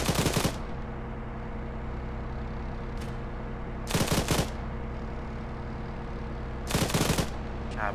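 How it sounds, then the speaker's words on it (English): Three short machine gun bursts in the Arma 3 military game, at roughly 0 s, 4 s and 7 s, each loud and sharp over a steady low vehicle engine rumble, with no voices. "Keep suppressing with machine gun"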